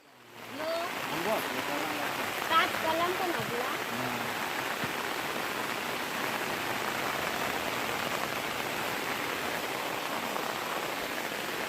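Heavy monsoon rain pours down steadily in a Konkan village, a dense, even rushing patter that continues throughout. Faint voices can be heard briefly near the start.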